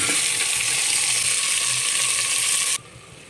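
Mushrooms fry in a pan with browned onions during village-style cooking, a loud continuous close-up sizzle that suddenly drops away to a much quieter hiss near the end, with no voices.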